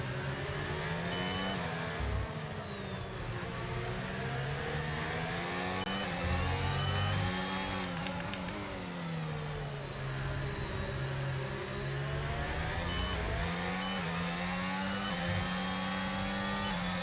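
A Formula 1 car engine in a racing video game at the Brazilian Grand Prix, revving near redline: a continuous high, buzzing whine that rises and dips with gear changes, loud and alone for the whole stretch.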